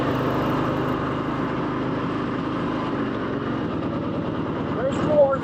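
A 1954 Harley-Davidson KH motorcycle engine pulls steadily in third gear on a ride out of town, a continuous loud low rumble with a rising throb near the end, while someone talks over it.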